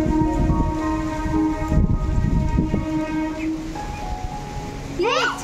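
A train passes during a storm, sounding a sustained horn over a rumbling rattle of cars, with a voice and other voices heard faintly in between.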